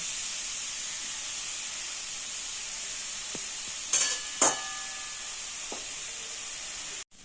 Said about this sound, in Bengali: কিন্তু গাজরটাকে ভালো করে ভাজতে হবে।